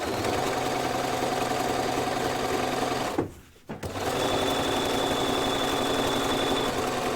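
A sewing machine stitching a quarter-inch seam on a padded laptop case, loud rapid steady whirring close by, briefly stopping in the middle before resuming, with no talk.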